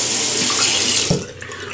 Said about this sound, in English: I just wet the razor a little bit